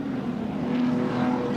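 A 1985 Group A touring race car runs flat out along the straight at Amaroo Park, its engine a steady, moderately loud buzzing drone with no talk over it.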